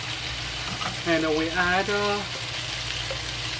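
Ginger fries with Sichuan chili sauce in a pan, a steady low sizzle continuing as someone briefly speaks over it.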